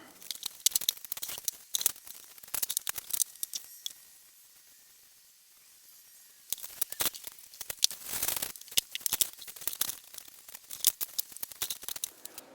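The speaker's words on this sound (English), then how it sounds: "Let's get some fresh paper down and let's get this thing put back together." Paper is rustled, crinkled and torn while fresh sheets are laid on a metal-shop workbench, in bursts of crisp crackling with a quiet pause midway.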